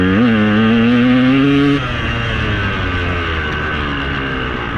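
A KTM 200 EXC two-stroke dirt bike engine revs loudly up close, rising to a high, buzzing pitch and then dropping back to a rough idle.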